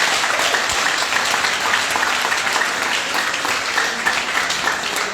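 Audience applause at a French-language training session on personal development and entrepreneurship, a dense, steady wash of many hands clapping that holds loud and even from start to finish, with no voices over it.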